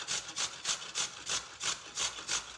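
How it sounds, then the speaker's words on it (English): Carrots are grated by hand on a kitchen grater, with faint, close rasping strokes repeating at a steady, even rhythm and no talking. "Now that I have just finished grating my carrots, I'm going to now start grating."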